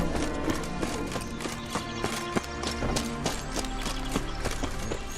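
Horse hooves clip-clopping at a steady run in The Witcher 3, a rhythmic patter of hoofbeats layered over dense game music and ambience, continuous and fairly loud throughout.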